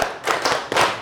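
A high school class clapping a rhythm pattern in unison, a few quick group claps in close succession, sharp and near in a classroom.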